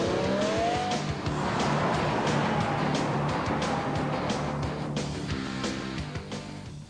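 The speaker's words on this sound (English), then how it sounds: "waiting to hear that engine roar when you put the accelerator into the" A racing car engine roars and revs hard, with a squealing tire and rising whine, steady and loud before gradually fading away.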